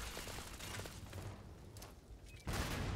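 Gunfire from a weapon in Starfield rattles in a dense burst, fades to a lull and then slams back in loud and close, with no talk over it.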